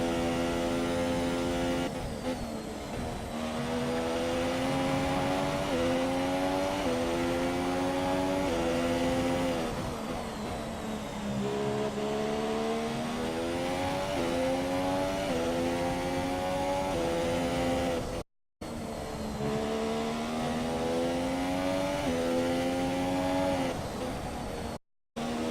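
Formula 1 race cars in F1 2017 at the Russia circuit, a sustained high engine whine with rising and falling pitch as gears shift, continuous and loud, briefly cut twice near the end.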